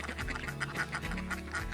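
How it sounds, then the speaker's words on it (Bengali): Several ducks quack in a quick, overlapping chatter at Satchari National Park, fairly faint and continuous. "আমরা দেখতে পাচ্ছি আমাদের এই পাশে যে বেশ কিছু হাঁস রয়েছে"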